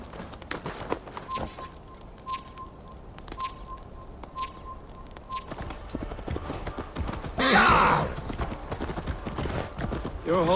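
Horse hooves clip-clopping in the Assassin's Creed Valhalla video game, a steady walking rhythm of hoof falls with a brief whinny-like burst near the end, mixed with ambient game sounds and a thin tonal hum.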